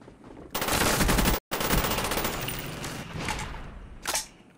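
Rapid automatic gunfire in Borderlands 1, a dense minigun-style burst that cuts out for a split second, resumes, then trails into scattered shots and a final sharp blast near the end.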